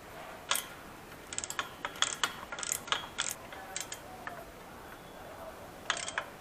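Allen key socket tightening bolts on a KTM Adventure 390 motorcycle while fitting a rear master cylinder guard, close sharp ratcheting clicks in irregular short bursts over a quiet background.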